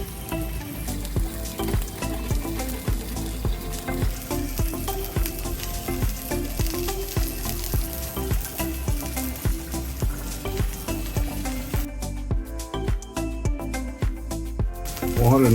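A ribeye steak sizzles loudly and steadily on a hot outdoor grill, a dense continuous crackle with popping spatters throughout.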